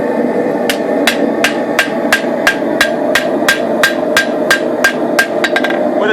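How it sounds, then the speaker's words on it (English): Hammer blows ring on hot steel worked over a wet anvil at around 600 degrees, about sixteen sharp, evenly spaced metallic strikes, loud and close, over a steady background hiss. "The anvil needs to be wet,"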